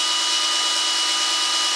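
A power drill runs continuously while twisting rope for a cowboy's lasso, a steady high-pitched whine that holds level and loud from start to finish.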